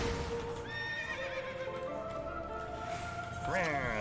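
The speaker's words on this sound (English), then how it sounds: "Horsey." In a video game, a horse gives a clear rising-and-falling whinny, followed by a second shrill neigh near the end, with faint hoof clip-clops and game ambience around it.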